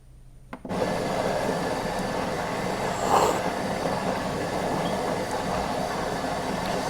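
A coffee machine brewing a 60 ml coffee gives off a steady, loud whirring hum that starts abruptly and runs continuously to the end, with no talking.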